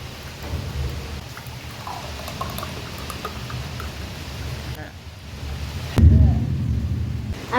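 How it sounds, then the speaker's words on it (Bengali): Heavy downpour outside at night, a constant dense hiss of rain with a sharp thunder crack and low rumble near the end, while someone talks over it indoors. "বাইরে চলছে মুষলধারে বৃষ্টি।"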